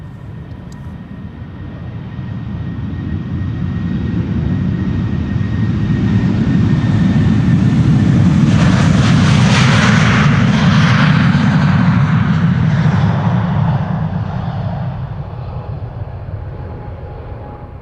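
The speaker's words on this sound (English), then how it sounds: "the 737 from KLM is taking off" A KLM Boeing 737 jet takes off at Amsterdam Schiphol, its engine roar building from a distance to a loud, broad rumble with a high whine at the peak, then fading away. No voices are heard.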